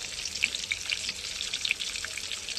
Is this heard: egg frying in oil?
yes